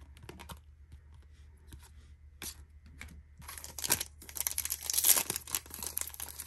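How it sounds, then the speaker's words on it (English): A 2021 Topps Stadium Club trading card pack is torn open at close range, with quiet crinkling at first, then louder ripping and crackling foil toward the end. "I don't like the way these packs open."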